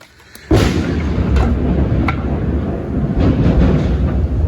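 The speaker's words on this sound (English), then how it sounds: "And that, my friends, was thunder. That was not a gunshot. It's raining out here." A single loud thunderclap bursts outdoors during rain, then rumbles on as a long low roll over steady rainfall.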